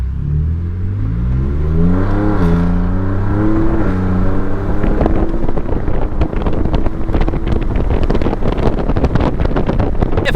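Twin-turbo V6 Ford fitted with an AWE exhaust kit rumbles and revs up, its engine note climbing and then turning into a loud, crackling roar, with wind buffeting the microphone and no speech.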